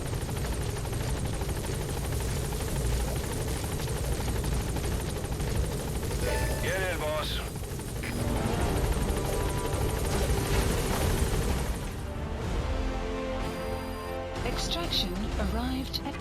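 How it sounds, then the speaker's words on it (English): A support helicopter hovers and sets down at a landing zone in Metal Gear Solid V, its rotor and engine roar loud and continuous. Radio voices and other game sounds come and go over the noise, which shifts and thins near the end. "Support helicopter has arrived."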